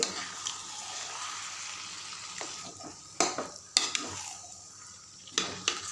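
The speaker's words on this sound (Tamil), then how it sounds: "வெங்காயம் எல்லா பக்கம் கலக்கிற அளவுக்கு நல்லா கலக்கி விட்டு" Onions are stirred in a hot pan for a rice dumpling dish, with a low sizzle underneath and a few sharp scraping strokes and metal taps breaking in during the second half.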